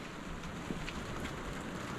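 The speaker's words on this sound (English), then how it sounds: "it's raining" Rain pattering across a container house construction site, a steady diffuse hiss of falling drops with faint scattered taps, even and moderately quiet throughout.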